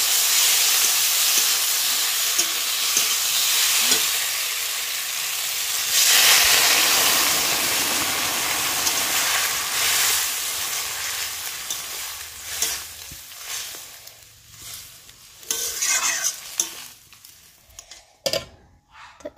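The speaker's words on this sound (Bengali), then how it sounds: "সিমগুলো আজকে একটু বেশি ভাজা হয়ে গেল।" Flat beans fry with spices in a hot pan, a loud continuous sizzle and hiss with stirring scrapes, the frying easing off and becoming patchy toward the end.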